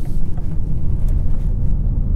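A BMW 530i xDrive G30 M-sport on 17-inch wheels being driven around a ring road, heard from inside as a steady low engine and road rumble with no talk.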